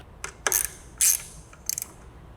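A ratchet tightens a nut on a cheap dirt bike, giving several short, close clicking bursts of the pawl with brief pauses between them.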